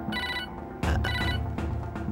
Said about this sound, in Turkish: Senin telefonun böyle çalmıyordu.